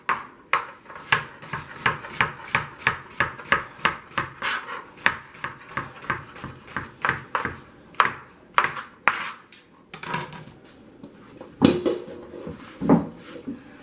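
A knife cuts through a big zucchini on a board in a series of about thirty crisp, evenly spaced chopping knocks, close and clear, with a few heavier thuds near the end and no talking.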